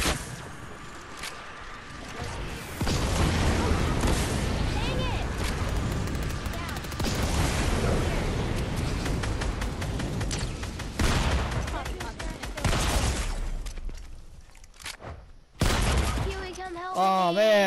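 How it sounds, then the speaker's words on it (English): Gunfire in a multiplayer shooter video game, with sustained bursts of rapid shots and booms rolling continuously, dense and steady, with players talking over it. "He's over there shooting."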